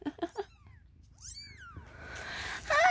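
Newborn kittens give several short, high mewling cries in quick succession, then thin whining calls rise and fall faintly. Louder squeaky mews return at the end, close by and without any talk.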